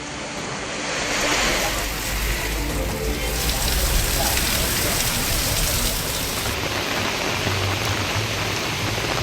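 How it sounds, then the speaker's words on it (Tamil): Heavy rain pours down in Omalur, Salem district, Tamil Nadu, making a dense, loud, steady roar of downpour that runs unbroken throughout with no voices. "சேலம் மாவட்டம் ஓமலூரில் கனமழை."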